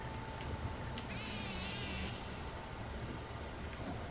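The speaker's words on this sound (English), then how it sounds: "Sounded like a cat dying or something." A brief, wavering, cat-like wail rises for about half a second in the Deep Rock Galactic game, faint against a constant low background hum.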